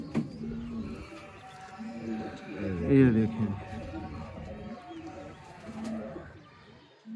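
Sialkoti pigeons, home-kept cross-bred pairs, coo softly in low repeated burbles, swelling briefly louder in the middle, while someone talks over them throughout.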